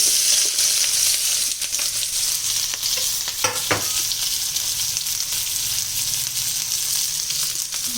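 Chopped onions fry and crackle in a hot pan of oil until reddish, with a continuous close, loud sizzle and occasional stirring scrapes.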